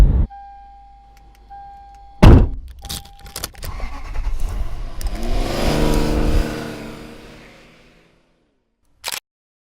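A car on the road between Mono Lake and Yosemite Valley, heard as a steady engine and road drone that swells in the middle and fades away, with a few sharp clunks and a brief knock near the end.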